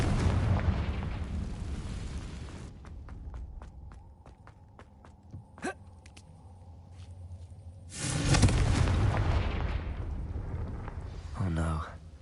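Confringo explosion spell in Hogwarts Legacy video game, a heavy booming blast that swells loud and rumbles for a couple of seconds, framed by footsteps, a short crackle and a voice calling out.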